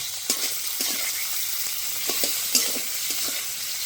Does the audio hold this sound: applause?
no